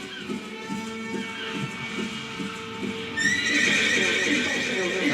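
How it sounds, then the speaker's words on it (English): A horse whinnies loudly and close amid steady clip-clop hoofbeats, with a second, brighter neigh rising partway through over a background hum. "That's a horse."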